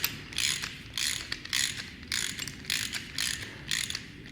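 Ratchet tightening header bolts on a Mercedes C63 AMG during an Armytrix exhaust install: rapid clicking bursts repeated about eight times in a steady rhythm, close and fairly quiet, with no voices.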